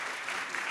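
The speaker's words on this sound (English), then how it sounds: "Can we get a round of applause, please?" An audience at a corporate talk applauds in a steady, dense wash of clapping that holds evenly for under a second, with no pauses.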